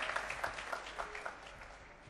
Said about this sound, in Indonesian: Beri tepuk tangan yang meriah untuk teman-teman kita di sini